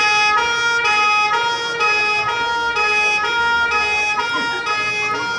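A loud police car siren wails steadily and continuously, close by, with no talking over it.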